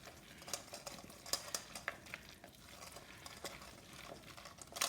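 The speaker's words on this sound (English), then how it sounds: "I will just stir these in here and see" A spoon stirs cherries into a bowl of chicken salad, giving soft, close clinks and scrapes at an irregular pace, quiet and without talk.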